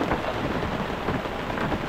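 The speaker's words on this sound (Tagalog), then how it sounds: "Kaya lang umuulan, hindi kami makapag-break camp ng maayos." Rain falls steadily on a rainy campsite in Palauig, Zambales, a dense close hiss of drops hitting surfaces with no pauses and no voices.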